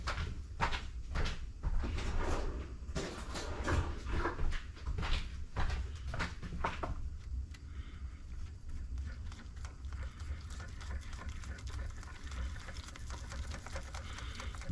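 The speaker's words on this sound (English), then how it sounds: "Now we're gonna give this a mix." Vanilla and water being stirred in a bowl for whole wheat hot cross buns, a brisk run of rhythmic knocking and scraping that settles into a softer, continuous swishing.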